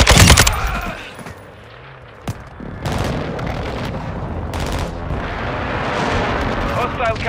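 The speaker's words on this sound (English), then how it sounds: "Friendly airstrike on the way." Call of Duty: Modern Warfare 2 Invasion battle, with booming airstrike explosions and scattered gunfire, a loud blast at the start followed by a dense, continuous roar of distant fire and impacts.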